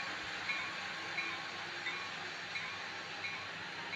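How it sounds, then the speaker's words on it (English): A train runs along a rail line near Boulevard station, heard as a steady broadband rumble and hiss with faint periodic clicks, continuous and moderately loud with no talk. "There's a train right there."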